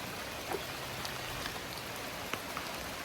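Steady rain falling outdoors, an even soft hiss with scattered droplet taps and a few brief louder splats, moderately quiet and uninterrupted by speech.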